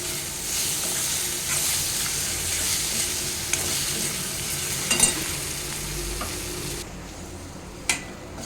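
Bitter gourd and gram flour are stirred in a hot pan with a steady sizzle and the scrape of a spoon against the metal. The frying stays close and fairly even, with a few sharp clinks near the end.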